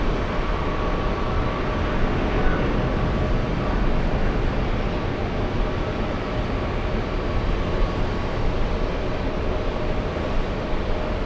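A Virgin Atlantic airliner passes at JFK airport, heard as a loud, steady broadband jet roar that holds evenly throughout with no voices.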